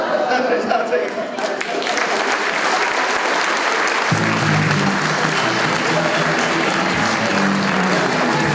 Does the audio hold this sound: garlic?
no